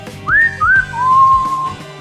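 A person whistles three quick notes, two short rising chirps followed by a longer held tone, clear and close.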